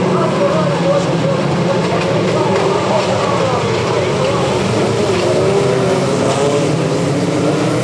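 Superstock cars racing at Bovingdon Raceway during the English Superstocks Championship, a loud, dense roar of several engines droning and shifting in pitch throughout, with a commentator's voice underneath.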